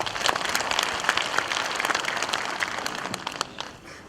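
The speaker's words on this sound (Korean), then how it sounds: "박수 부탁드립니다." Audience applause at a residents' community meeting on relocating Daegu's civil and military airport, a dense patter of many hands clapping steadily at moderate distance, tapering off toward the end with no talking over it.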